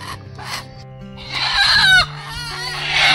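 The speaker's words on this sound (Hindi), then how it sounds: "देसी कोमड़ी" Desi country chickens clucking nearby in a rural outdoor setting where a handi chicken meal is being prepared, with irregular bursts of fowl calls and rustling growing louder toward the end.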